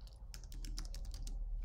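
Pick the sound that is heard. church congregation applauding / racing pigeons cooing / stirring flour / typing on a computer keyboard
typing on a computer keyboard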